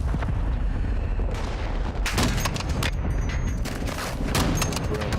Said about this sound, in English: Dude, I'm getting shot at.